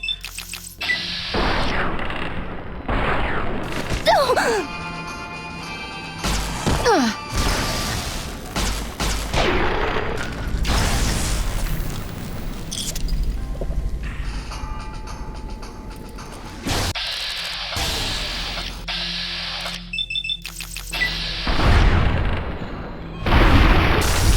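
Gunfire in the Fallout New Vegas video game: a series of sharp shots and booming blasts, mixed with mechanical clicks and ratcheting, spread across a busy stretch of game sound.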